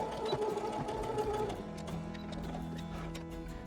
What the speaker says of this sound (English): I'm just gonna sew up this fold line here.